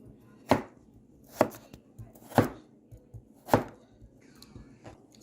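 Knife chopping potatoes for air fryer fries, four sharp distinct chops on a board spaced about a second apart, with faint softer knocks between them.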